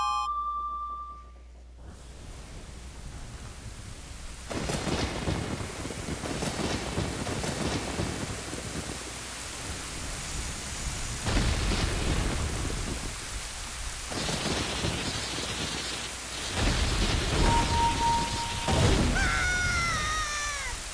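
A thunderstorm with a lightning bolt in The Legend of Zelda: Ocarina of Time begins after a few brief tones: steady heavy rain with repeated loud thunder rolls and cracks, and chiming game tones near the end.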